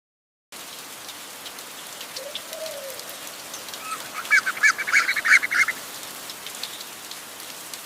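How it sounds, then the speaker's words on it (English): Steady heavy rain hisses across a wide jungle area with scattered drops pattering nearby, and a bird honks briefly partway through. "Rain pours heavily across the jungle, but Kuro shakes off the water, adapting to"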